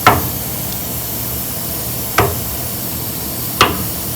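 Three sharp, isolated strikes spaced a second or two apart, a hand slapping down hard on a metal rotisserie mount for a Challenger, with a steady hum between.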